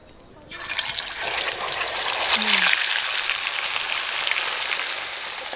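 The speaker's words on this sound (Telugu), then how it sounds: "ఇప్పుడు మనం ఈ చేపలు దాంట్లో వేసుకుందాం" Bhuraka fish slide into hot oil, and the quiet background suddenly swells into a loud, close, steady frying hiss that holds to the end; a voice is faintly present.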